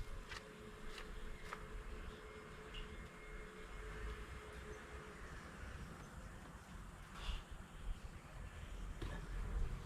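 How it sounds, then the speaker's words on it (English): Bees buzz around a backyard beehive, a faint, steady drone carried under outdoor background noise with occasional soft knocks and clicks, and no talking. "You can hear quite a bit of bee activity now."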